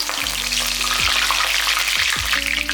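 Loud, crackling sizzle of mustard seeds and curry leaves frying in hot oil, a dense continuous spatter with a low hum underneath.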